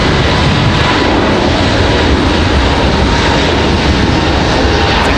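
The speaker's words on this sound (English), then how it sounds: "We do have another arrival. Looks like a Delta." A Delta airliner arrives at Raleigh-Durham International Airport with a loud, continuous engine roar that holds steady and close throughout, with no talk over it.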